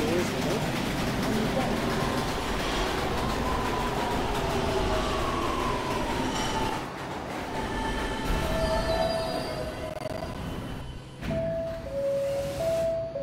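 A New York subway D train bound for St. Mark's Avenue rumbles and rattles steadily along the track, with rising and falling motor whine and a few high squeals or chimes near the end.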